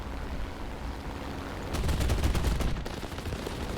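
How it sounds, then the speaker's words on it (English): Aircraft cannons on a BF-109 E-3 fighter in War Thunder fire a short, dense burst of rapid shots over steady engine drone, loud and close, lasting about a second. "that was the cannons doing that. The cannons actually did something."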